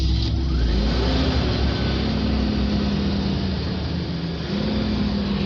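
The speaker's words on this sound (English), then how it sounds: "Here are the cars pulling out." Classic cars pulling out at a car show, a loud, steady engine rumble that holds for several seconds, with a revving note rising close by and no talk over it.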